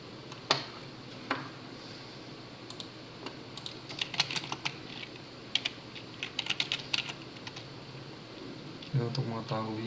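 Typing on a computer keyboard while entering Python data-cleaning code, with scattered clicks and quick bursts of keystrokes close to the mic, and someone speaking quietly at times.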